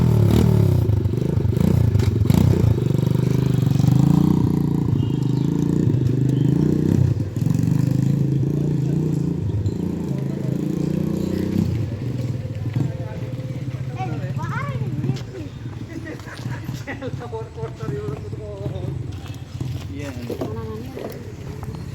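A 125cc Ralli dirt bike engine running nearby, a loud low rumble that idles unevenly and then eases off, with clattering and people talking over it.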